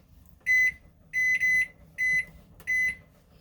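Oven timer being set, giving five short electronic beeps in an uneven run, two of them nearly back to back, clear and moderately quiet over faint room noise.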